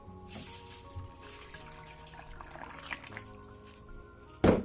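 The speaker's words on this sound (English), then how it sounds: "and we're gonna pour some water." Water poured into a blender over lemon juice and ginger while making a June plum, apple and ginger juice, a soft steady liquid trickle that runs throughout at a low level and ends with a brief louder clunk.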